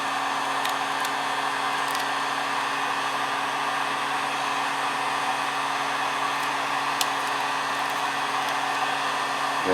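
A heat gun warms a decal wrap on a smartphone with a steady, close, whirring blower hum and airy hiss that holds constant for nearly ten seconds, with a few faint clicks.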